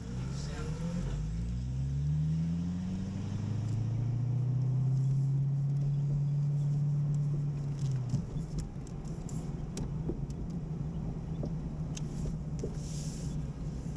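A 2010 Chevrolet Corvette ZR1 engine droning on a race track, rising in pitch as it accelerates, holding a loud steady tone, then dropping as it shifts into a lower, rumbling cruise with wind and road noise, with occasional speech.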